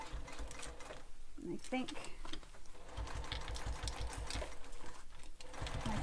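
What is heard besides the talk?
sewing machine stitching a backpack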